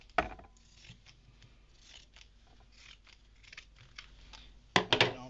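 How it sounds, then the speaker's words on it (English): Pinking shears snip through a folded fabric pant leg, a few crisp, close cutting bursts at the start and end with quiet rustling between, no speech. "fold it over and cut along the fold"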